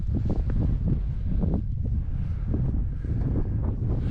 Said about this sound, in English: It might get a bit windy now, we're on the hilltop as well.